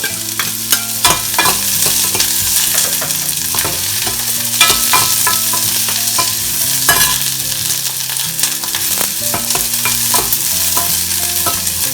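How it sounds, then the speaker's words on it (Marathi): Chopped onion frying in a spice mixture for horse gram pithla, a loud continuous sizzle with repeated scraping and stirring strokes throughout, close up with no talking. "मिश्रण चांगलं फ्राय झाल्यावर आपण त्याच्यामध्ये हा एक चिरलेला कांदा टाकूया"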